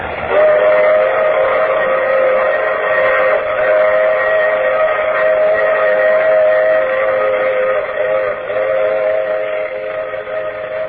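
A radio drama train sound effect: a loud, continuous rumble of a running train with a sustained whistle tone holding nearly the whole time, band-limited and close.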